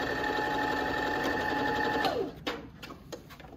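A Janome 725S sewing machine stitches in a steady, rapid close hum for about two seconds, then stops, leaving a few soft clicks and handling noises.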